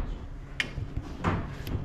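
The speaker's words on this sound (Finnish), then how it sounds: "Ovet toimii hienosti." A car door is worked open and shut, giving two short, sharp knocks about half a second apart, close by, over a low background hum.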